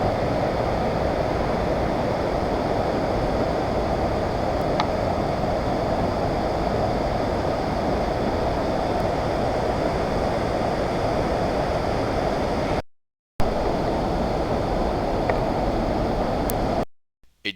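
A waterfall in the Pocono Mountains area gives off a steady, loud, broadband rush of falling water that fills the whole stretch without letup, broken only by two brief dropouts near the end.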